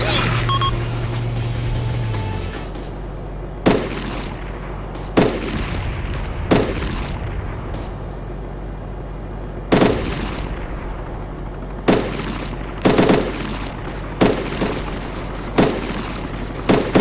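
Gunfire in the military game Arma 2, during an airport assault by Spanish units: a steady engine drone, then single sharp shots and short bursts spaced a second or two apart, loud and close.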